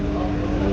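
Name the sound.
ferry boat engine running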